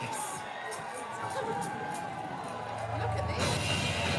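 A crowd at a War of the Roses tournament at Warwick Castle cheers and shouts for the red and white rose houses, a dense, continuous roar of many voices with individual yells rising out of it.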